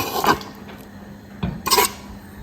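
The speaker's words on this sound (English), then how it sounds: "We'll go ahead and add our chopped shallot, onions and garlic to the soup" Chopped shallot, onions and garlic tipped into a soup pot for palm nut banga jollof rice, giving a few short clattering thuds and scrapes of utensil against the pot, fairly close, with quiet kitchen background in between.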